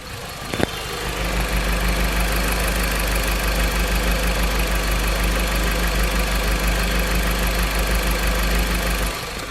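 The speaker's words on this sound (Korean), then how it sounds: "바로 엔진음 한번 들려드리도록 하겠습니다" A Jeep Compass 2.4 Limited SUV engine idles close up with the hood open, a loud, steady, even rumble starting after a brief click and running smoothly to the end without talk.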